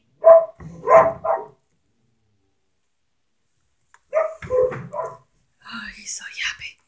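Small yappy dog outside, heard in short bursts of sharp barking with a pause between, mixed with nearby voices of people calling to it.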